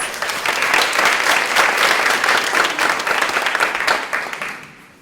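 An awards-ceremony audience gives a steady round of applause, dense clapping from many hands that holds strong for several seconds and then tapers off at the end.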